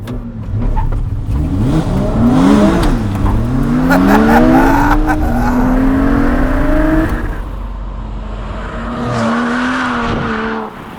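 A RUF Rodeo sports car engine revs hard and accelerates, pitch climbing and dropping through gear changes, loud and close, then settles into a lower drone.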